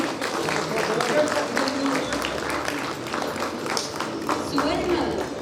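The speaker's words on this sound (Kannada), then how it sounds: "ಚಪ್ಪಾಳೆ ಬರಲಿ." Audience applause at a portrait unveiling inside Vidhana Soudha, a steady wash of clapping from a crowd running throughout while a voice carries over it.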